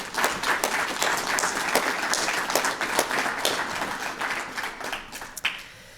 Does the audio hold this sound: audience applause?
yes